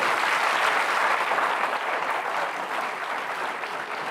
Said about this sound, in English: Please, a round of applause for all of them.